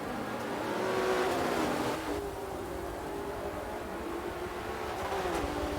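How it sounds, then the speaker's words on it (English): Race cars, including a Porsche, at the start of a wet GT race at the Nürburgring GP circuit rev and pull away, a moderately distant blend of engine drone and rising pitch sweeps that continues steadily throughout. "I can hear them revving."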